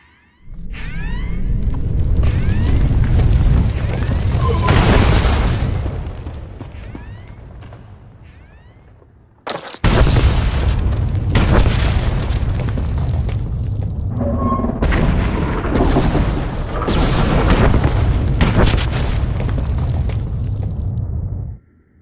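A massive planet-scale explosion in Star Wars: The Old Republic gives a long, loud roaring rumble that fades. It cuts off abruptly and then surges back as further booming blasts and crackles, ending in a sudden drop.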